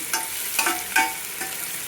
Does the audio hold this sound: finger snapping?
no